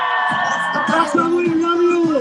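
A crowd at a protest in front of the White House in Washington, D.C. cheers and whoops, with a sustained shouting voice rising over steady, loud crowd noise and speech.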